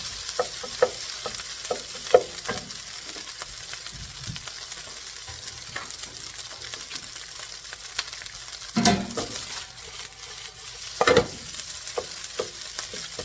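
Jumbo shrimp fried rice with egg stir-frying in a hot pan, a continuous close sizzle broken by scraping spatula strokes and a few louder clattering tosses, with no talking.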